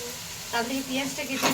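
Potatoes fry in a pan, a steady sizzle with brief stirring scrapes, close and fairly loud, with faint voice sounds in the background.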